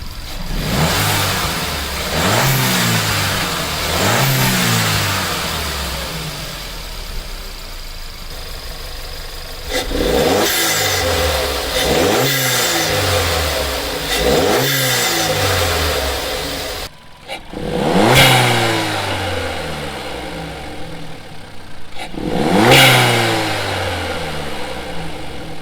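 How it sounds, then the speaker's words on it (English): A VW Golf Mk6 1.4 TSI fitted with a Go Fast Bits DV+ valve accelerates through several gears, each rising engine pull ending in a sharp whooshing release at the shift, loud and close. "It's got the sounds of a dump valve, but the properties of a diverter valve"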